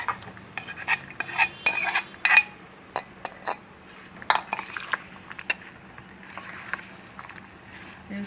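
A metal spoon stirs and clinks against a pan while rice is mixed for raw mango pulihora, with irregular scraping and tapping knocks over a quiet background hum.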